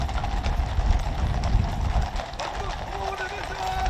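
Horses' hooves clip-clopping on the parade ground during Trooping the Colour, with royal colonels riding. Steady hoofbeats sit under a voice and crowd ambience, moderately loud and continuous.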